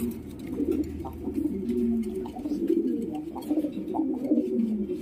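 A high flyer pigeon held in the hand gives repeated low, throaty coos in rolling phrases, close and clear with no talking.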